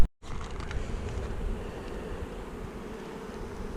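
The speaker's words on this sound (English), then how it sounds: "this thing is just slap full of bees now" Honey bees swarm around a beehive stacked three boxes high, a dense, steady buzzing hum close by, with occasional faint creaks from the hive equipment.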